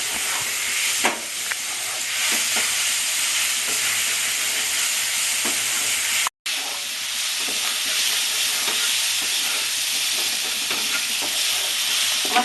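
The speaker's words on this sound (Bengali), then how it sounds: "আমি একটু তেল ছাড়া পর্যন্ত এটা একটু কষতে থাকবো" Spice paste stir-frying in oil in a wok for a Bengali-style fish dish, a loud steady close sizzle with scraping stirs, briefly cut off for a moment midway before resuming; no voices.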